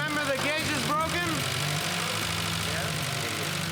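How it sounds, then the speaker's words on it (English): A 1992 Eagle Talon TSi engine runs at a steady idle, a low continuous hum beneath voices speaking over it, with a brief rising note near the start. "With their engine running,"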